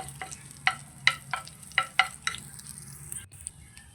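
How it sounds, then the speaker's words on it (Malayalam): Curry leaves sautéing in a pan for a Kerala-style mango chammanthi, with soft sizzling and frying under a few sharp stirring clicks and scrapes, close and steady, with no talking. "ഇനി നമുക്ക് കുറച്ച് കറി ലീഫും കൂടെ ഇതുപോലെ ഒന്ന് വഴറ്റിയെടുക്കാം."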